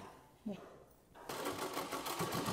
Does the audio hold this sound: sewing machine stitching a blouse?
yes